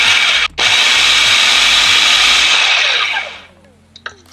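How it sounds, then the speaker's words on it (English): A food processor pulsing brown sugar with molasses makes a loud close whirring grind that cuts out briefly, restarts, then winds down and stops, leaving a few small clicks. "Just add in the sugar and the molasses. Just pulse until combined."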